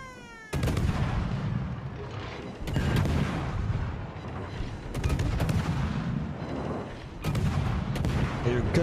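Warship main guns fire in four heavy booming salvos a couple of seconds apart in a naval battle game, each blast loud and followed by a long rumbling tail.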